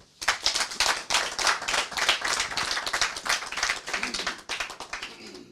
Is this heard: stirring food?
no